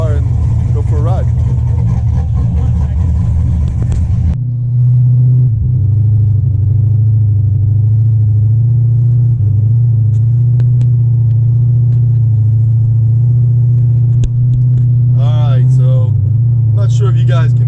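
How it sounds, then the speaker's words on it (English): A C6 Corvette on the road, its engine a loud, steady low rumble that drowns everything, with a brief burst of louder revving at the start and someone talking over the drone. "this car is really loud."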